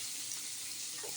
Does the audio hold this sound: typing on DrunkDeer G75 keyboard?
no